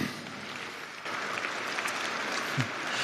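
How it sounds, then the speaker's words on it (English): Steady applause from a commencement audience for the Board of Regents, a continuous wash of many hands clapping at moderate volume throughout. "as I call their names, we will applaud them as a group"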